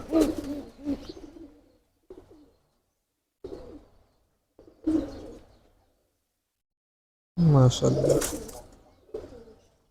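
Pigeons coo in several separate bursts with silent gaps between them, close by, and a voice briefly speaks among the calls.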